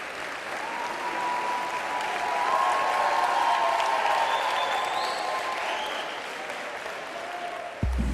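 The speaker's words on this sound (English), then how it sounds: "Please put your hands together. Give them a massive cheer." Steady audience applause with cheering at the Miss Gibraltar 2019 pageant as contestants parade in activewear. It is a broad, continuous wash of clapping that swells in the middle, with a faint whistle-like tone above it and a thump at the very end.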